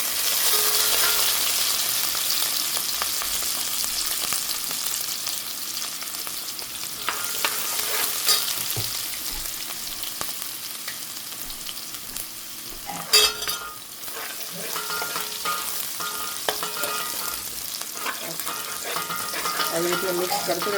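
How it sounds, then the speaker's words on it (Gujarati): Ginger and garlic sautéing in a pan, a constant hiss of frying with repeated spatula scrapes and clinks, including a sharp metallic knock midway; little talk. "આવી રીતે મિક્સ કરતું રહેવાનું, સાતરતું રહેવાનું છે"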